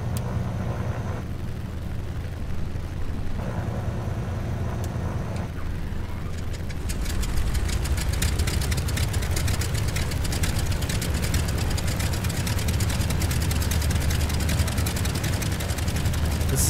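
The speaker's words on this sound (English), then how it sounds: "I just absolutely love the sound of this engine." A Beechcraft Model 18 radial engine in Microsoft Flight Simulator rumbles steadily, then swells into a louder, denser continuous drone partway through as the second engine joins, with no talk over it.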